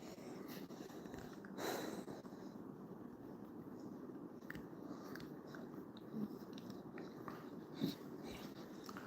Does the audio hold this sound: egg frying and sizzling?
no